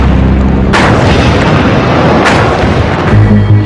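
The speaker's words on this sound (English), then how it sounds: "a hydrogen explosion blows out the top of Unit 3" A hydrogen explosion blows out the top of Unit 3 at the Fukushima nuclear plant, rendered as a loud, sustained roaring blast with heavy rumbling and a couple of renewed booming surges, close and overwhelming.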